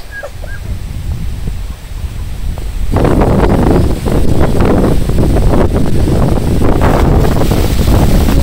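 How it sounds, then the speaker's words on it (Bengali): Wind blowing outdoors in a village after overnight rain: a quiet stretch, then strong gusty rushing buffets the microphone, loud and sustained. "বাতাসও ছুটছে"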